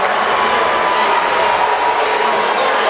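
Disapproving crowd noise at a boys' high school basketball playoff game after a foul call, a loud, sustained wash of voices filling the gym throughout.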